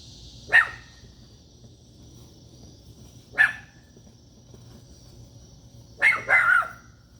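A dog named Mito lets out three sharp barks at a distance, two single yips spaced a few seconds apart and then a quick double bark, over a quiet outdoor background.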